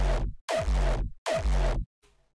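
Three heavy synthesized kick drum hits processed with a Disperser plugin, each with a long booming low body and a smeared, warped pitch-swept tone, followed by a faint tail, no talking.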